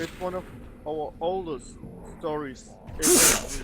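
Someone sneezes once, a sharp, loud burst at the very end, just after someone speaks in a casual voice.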